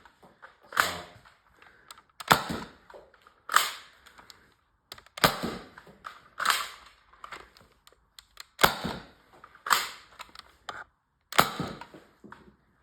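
A modded X-Shot Reflex 6 toy foam blaster fires about eight sharp, snappy shots at uneven intervals, close and loud against near silence.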